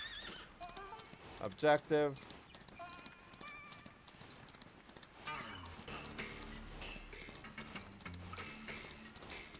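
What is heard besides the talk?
horse hooves and neighing in video game Far Far West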